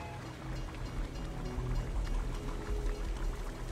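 Water feature in the Fallout 76 game flows steadily, a continuous splashing, pouring rush with low rumbling underneath, moderately loud and without voices.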